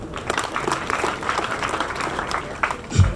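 Audience applause for the guest of honor at a graduation ceremony at Mbale School, a steady sustained crowd clapping throughout, with a louder thump near the end.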